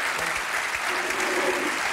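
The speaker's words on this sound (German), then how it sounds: "Einen großen Applaus für euch." Brisk, dense applause from a TV studio audience, loud and sustained with no break.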